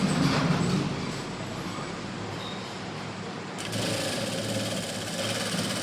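A sewing machine stitches along folded-in blouse fabric, a steady fast mechanical whirr held throughout at moderate loudness with no one talking.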